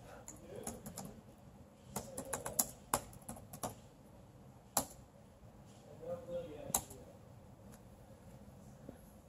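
Keys tapped on a computer keyboard while setting up an AWS MPI cluster, with irregular bursts of sharp clicks and pauses, close and fairly quiet against a soft room hum.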